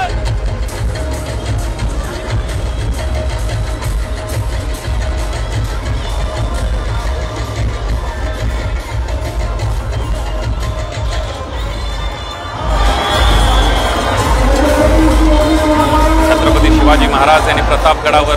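A large crowd of devotees gathers at Alka Chowk in Pune during a live staged tableau, a dense, continuous roar of many voices and shouting that swells louder and brighter in the final seconds.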